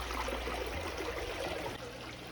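Water runs steadily through a gold sluice fitted with a VDR mat, a continuous close trickling stream with a low rumble that drops off near the end, with no talking.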